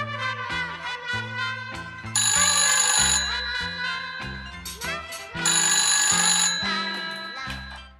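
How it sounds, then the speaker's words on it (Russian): A telephone rings in a bright, musical electronic pattern of repeating tonal phrases, loud and alone, with the ringing swelling twice across the span. "У меня зазвонил телефон."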